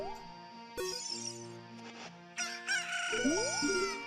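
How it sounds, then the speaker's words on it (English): A cucco chicken in The Legend of Zelda: Ocarina of Time 3D crows amid synthesized game music, with a sharp tonal burst partway through and rising chime-like sounds toward the end. "Please make this cuckoo happy, okay?"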